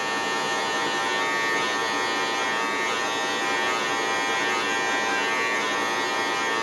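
An electric hair clipper fitted with a 1 guard, lever fully open, buzzes steadily and close while cutting hair during a high taper fade, a continuous even whine with no pauses.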